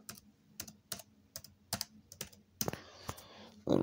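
Rapid clicking of computer keyboard keys as a password is typed, a close, sharp run of separate keystrokes with short pauses, ending in a louder clatter.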